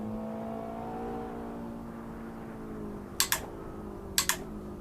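A racing car engine in a driving video game holds a moderate whining drone that slowly falls in pitch during a drift, followed near the end by two quick pairs of sharp clicks.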